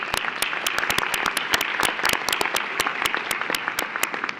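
Applause from an audience at a soccer federation's annual general meeting, steady clapping of a modest crowd with sharp individual claps standing out, continuous and fairly close.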